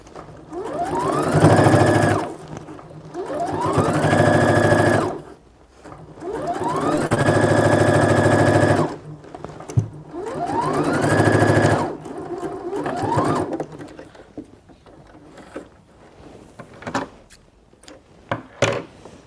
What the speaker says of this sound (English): once you start sewing, you back stitch because you want it to be tight and you don't want the stitches to pull out